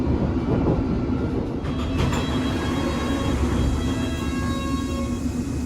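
A London Underground train runs steadily with a constant low rumble and rolling mechanical noise, a few faint high tones and squeals rising briefly, loud and close throughout with no talking.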